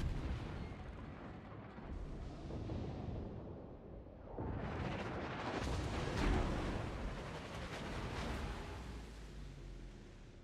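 Warship main-battery shells firing in World of Warships, a low rumbling boom that swells midway and lingers as a distant, sustained roar.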